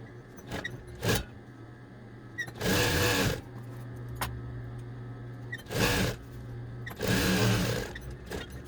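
A sewing machine stitches fabric for a drawstring gift bag in short bursts, two longer runs of fast whirring and several brief ones, with quiet handling between them.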